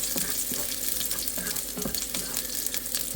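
Garlic frying in a pan, a dense continuous sizzle with faint stirring scrapes, close and steady throughout with no voices.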